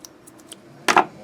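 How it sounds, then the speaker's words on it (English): A quick paper cut while trimming a journal piece: a short crisp snip lands near the end after a few faint taps, close and clear with no talk. "First I have to cut it to size. So I'm going to cut it right about there"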